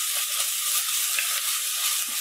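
Steady, bright sizzling of onion, garlic and curry leaves frying in a hot pan, a constant crackling hiss with tiny pops and no voices.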